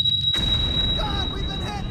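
Torpedo striking a submarine in the naval simulator Jane's 688(i) Hunter/Killer: a single heavy low boom bursts in near the start and rumbles on, with a thin electronic tone running across the top.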